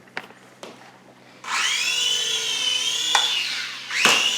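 An Air Hogs Axis 300X remote control helicopter sits on a table as its rotor motor spins up into a steady, high electric whine. The whine follows a couple of sharp clicks and holds close and loud.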